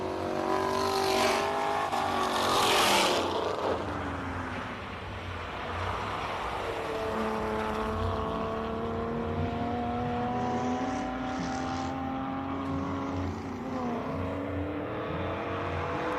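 A classic Porsche racing up a hillclimb course, its engine rising and falling through gear changes as it passes and pulls away, loud at first and then fading into the distance, with no voices.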